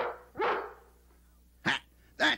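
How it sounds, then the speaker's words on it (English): A dog gives three short barks, close and fairly loud, spaced unevenly with quiet gaps between them. "And a dog says, woof, woof."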